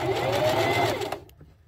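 Plush dinosaur foot bottom being stitched on a sewing machine, a steady close-up whirring run that stops abruptly after about a second and a quarter, followed by a couple of faint clicks.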